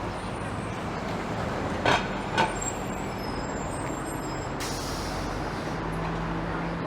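Toronto city bus in street traffic, a low steady engine rumble under general traffic noise, with two short hissing air-brake bursts and a brief high hiss later, heard from the sidewalk with no talking.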